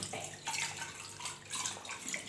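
Water running steadily from a plastic bottle rigged as a makeshift sink tap, a continuous splashing trickle for a couple of seconds, close and alone without speech.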